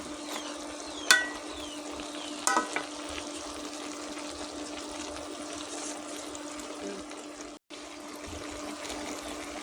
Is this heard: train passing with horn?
no